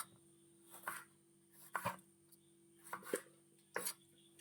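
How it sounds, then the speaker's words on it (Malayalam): A knife slices through tomatoes on a cutting board in a home kitchen, with five or so sharp, separate chops spaced about a second apart, quiet and close, no talking. "5 തക്കാളി നമുക്ക് ഇങ്ങനെ കട്ട് ചെയ്തെടുക്കാം"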